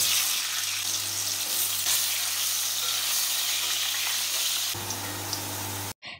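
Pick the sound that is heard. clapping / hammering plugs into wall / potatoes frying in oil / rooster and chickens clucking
potatoes frying in oil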